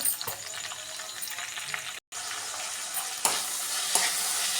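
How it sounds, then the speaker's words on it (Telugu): Green chillies and mint fry in a pan for coconut chutney, giving a steady broadband sizzle with a few sharper crackles and spatula scrapes, close and alone with no talking. "ఫస్ట్గా పచ్చిమిర్చి పుదీనా వేసి కాసేపు ఫ్రై చేయాలి"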